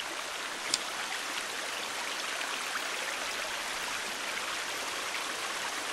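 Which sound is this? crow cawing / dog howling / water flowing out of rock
water flowing out of rock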